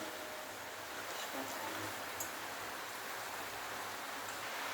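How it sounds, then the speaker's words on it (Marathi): Steady heavy rain pours down as an even, dense hiss, continuous and fairly faint, with no other sounds standing out. "बाहेर जोरातच पाऊस पडतोय"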